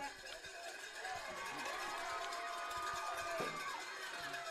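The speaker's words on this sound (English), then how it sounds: "Their crowd coming alive." A George Washington softball crowd cheering and clamoring during a AAA high school game, a steady wash of voices and shouts heard from some distance with a commentator talking over it.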